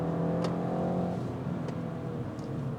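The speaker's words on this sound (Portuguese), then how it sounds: "Bem legal esse berro do B48 aqui." Mini Cooper S 2025 with its B48 engine, a steady engine roar with harmonic drone holding loud and close throughout, easing slightly after the first second, with no talking over it.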